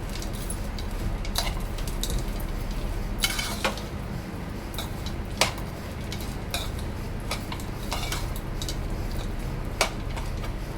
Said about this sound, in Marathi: आता हे चांगलं मिक्स करून घ्यायचं आहे